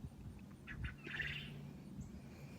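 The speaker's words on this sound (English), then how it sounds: "The male quail make that noise." A male quail gives a few short chirps followed by a longer, buzzy call, faint against a low background hum, with no talking.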